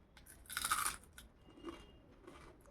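Close, crisp crunching as someone bites into fried rice papad: one loud crackly bite, then softer chewing crunches trailing off.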